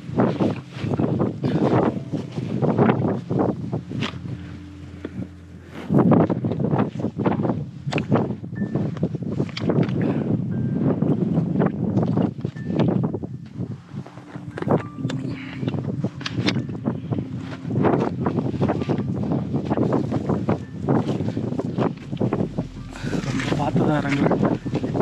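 Strong wind gusts across the Velliangiri hilltop and buffets the microphone in loud rushing bursts, while a person talks throughout and occasional rustling and footsteps come through.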